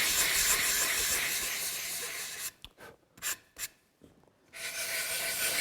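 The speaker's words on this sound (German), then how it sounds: "Den letzten Schliff bekommen Beine und Gratleisten von Hand." Wooden table legs are hand-sanded at the edges, a hissing, rasping rub that runs steadily, breaks into a few short strokes with pauses, then resumes continuously and close.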